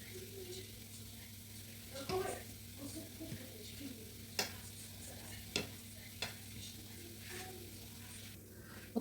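Puff puff dough frying in hot oil, a quiet steady sizzle with a few sharp clicks and knocks of a utensil against the pot, heard without talk.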